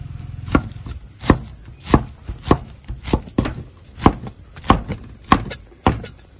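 Knife cutting through pineapple slices on a board while trimming off the skin, heard as a steady series of sharp, close chopping taps about every half second over a faint high hum.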